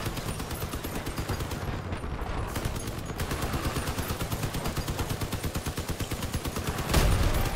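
Sustained rapid gunfire from armed vehicles in the combat game Crossout, a steady machine-gun rattle running the whole time with a heavier blast near the end.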